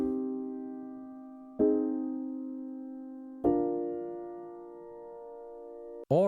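A soft, keyboard-like chord progression with notes voiced down an octave plays alone. Three sustained chords each strike and decay over one to two seconds, and a fourth chord starts just at the end.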